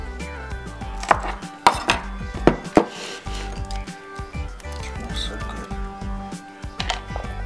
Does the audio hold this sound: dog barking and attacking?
no